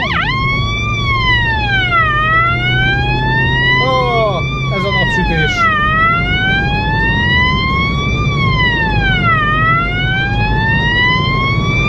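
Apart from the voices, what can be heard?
emergency vehicle siren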